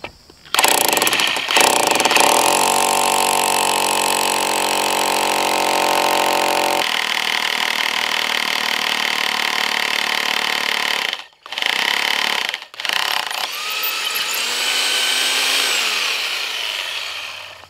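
A power drill bores deep bolt holes through 6x6 wooden sill plates for a post-and-beam garage, its motor whining loud and steady for long stretches, then cutting out twice briefly before a final drilling run.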